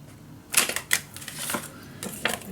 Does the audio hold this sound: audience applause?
no